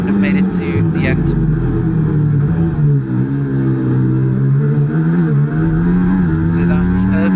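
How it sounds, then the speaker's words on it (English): An F1 car in a racing video game, at the Spielberg circuit, drones steadily as it enters the pit lane, its engine tone rising and falling under continuous commentary. "there's Irby coming into the pits now"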